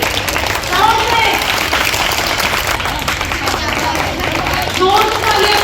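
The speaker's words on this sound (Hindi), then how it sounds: "तालियां बजा दो भाई, साउंड से" Students applaud at a school cyber-security awareness session, a steady dense clapping that fills the room for several seconds while voices talk over it.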